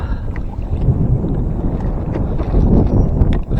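Wind blows across Bartlett Lake during a kayak bass fishing tournament, a steady low buffeting rumble close on the microphone with gusts that swell and ease.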